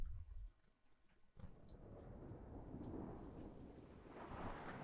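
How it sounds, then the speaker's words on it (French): Thunderstorm with rain in the game Xenoblade Chronicles 2, above a sea of clouds: a low rumble opens, then a steady rushing downpour swells with deep thunder rolling beneath, fairly loud and without speech. "Au-dessus de la mer des nuages, il y a des nuages. qui font un orage, c'est génial."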